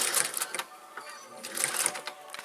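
Sewing machine stitching straight across a fabric apron in bursts, its rapid mechanical whir starting and stopping twice at close range with no talking.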